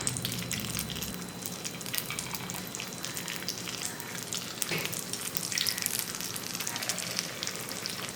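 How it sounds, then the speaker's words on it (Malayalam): Batter sizzles and crackles steadily in hot oil in an unniyappam pan, a dense continuous frying hiss close up with no talking. "എണ്ണ നല്ലോണം ചൂടാവുമ്പോൾ നമുക്ക് ഓരോ കയ്യിൽ മാവ് ഒഴിച്ചു കൊടുക്കാം"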